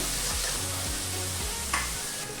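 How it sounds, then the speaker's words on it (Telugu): Onions and curry leaves sizzling in a hot pan while a spoon stirs them, a continuous frying hiss broken by a few rhythmic scraping strokes against the pan, close and without speech. "ఇందులోకి 1 రెమ్మ కరివేపాకు వేసుకొని ఒకసారి బాగా మిక్స్ చేసుకున్నాము."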